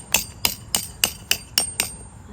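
Seven sharp hammer blows pounding tent stakes while setting up camp on a rainy camping trip, evenly spaced and close, each a crisp knock with a short ringing tail.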